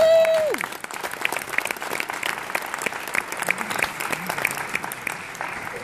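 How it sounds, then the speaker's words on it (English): An audience at a commencement ceremony breaks into applause, a dense steady burst of many hands clapping that fills the room, with a brief voice at the very start. "give yourselves a round of applause."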